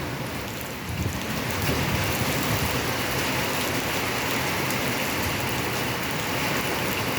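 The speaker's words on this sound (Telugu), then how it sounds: "ఇంత ఎండాకాలంలో ఇక్కడ వర్షం కురుస్తుంది" Heavy summer rain pours down at Kotilingeshwara temple in a thick, constant roar, growing slightly louder after the first second and holding steady, close and intense.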